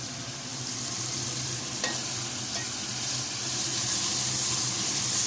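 Onions and spices frying in oil in a home kitchen pan, a steady close sizzle with occasional scraping stirs, no talking.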